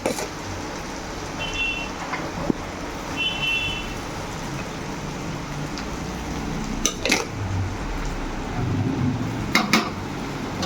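Rice is stirred into a pan for mixed fried rice, with faint scraping and occasional light utensil clinks against the metal under a quiet background hiss.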